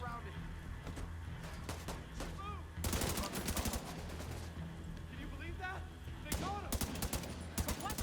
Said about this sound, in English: Keep firing and take them out.